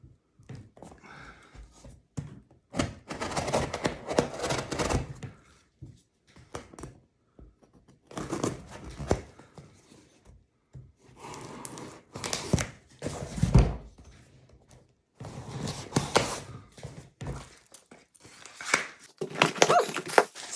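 A knife cuts and tears through crinkly packaging around a 1930 green Kodak Hawkeye 116 folding cartridge camera, in bursts of rustling, crunching and tearing separated by short pauses.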